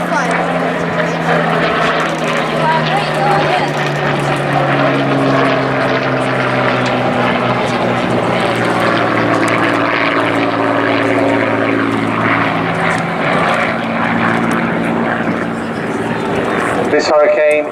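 Hawker Hurricane PZ865, the last one built, drones past at an airshow with a loud, steady propeller-engine roar whose pitch slowly falls, while a voice talks over it throughout.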